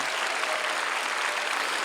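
A church congregation at a Sunday prayer service for peaceful reunification bursts into loud, dense applause, a thick uninterrupted wash of many hands clapping close by.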